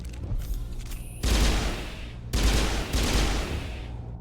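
Burst-fire gun shooting in the Mass Effect game, two heavy bursts of rapid shots about a second apart, loud and close, with no talking.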